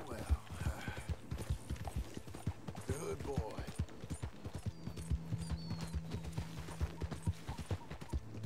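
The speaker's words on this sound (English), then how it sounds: "That's my sure-footed steed." A horse's hooves clip-clop steadily in a video game, a regular close patter of footfalls with a brief whinny-like cry and a low drone partway through.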